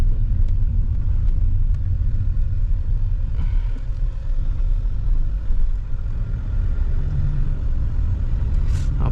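Cabin sound of a Hyundai Creta diesel automatic driving through Bangalore at night: a steady, loud low rumble of engine and road noise with faint passing sounds, no talking.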